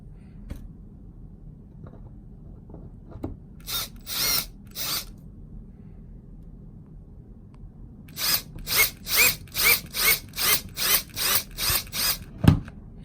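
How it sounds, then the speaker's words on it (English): Screws being backed out of a Nest x Yale smart lock with a screwdriver: a few scattered grinding bursts, then a steady run of about a dozen evenly spaced, close rasping turns. "I'm gonna put a screwdriver in there, and then we're gonna screw this out"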